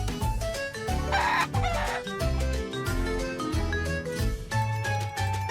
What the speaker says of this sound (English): Two roosters.